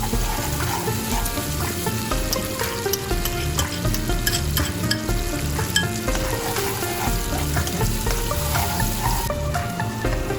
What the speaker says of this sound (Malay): Kemudian masukkan cili kisar dan tumis hingga garing.